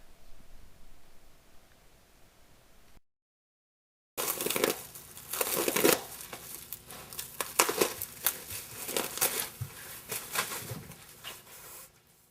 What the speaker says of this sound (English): I'll go ahead and take these and cut them open